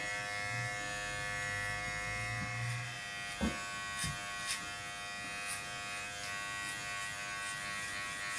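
Electric hair clippers fitted with a number 1.5 guard cutting hair, a steady quiet buzzing hum throughout, with a few faint clicks partway through.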